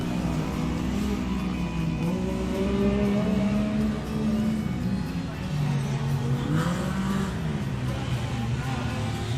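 Honda Talon off-road vehicles racing at an event, a steady engine drone with rising and falling revs heard from a distance, mixed with crowd noise and some talk.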